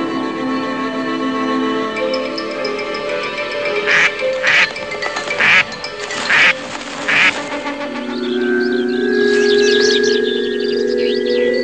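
A mallard duck quacks repeatedly while fleeing an eagle toward a nearby river, a run of loud, close, harsh quacks in uneven bursts over steady background noise.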